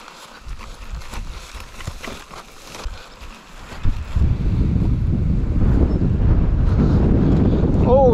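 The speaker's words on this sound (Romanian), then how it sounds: "bate vântul aici." Strong wind buffets the microphone in a loud, continuous roar that builds and stays heavy, with faint voices underneath early on.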